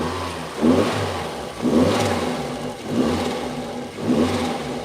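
A Mazda Miata NB2 idles with a low burble and is revved four times in a steady rhythm, each short rise swelling and falling back to idle. The engine is heard close, with no talking.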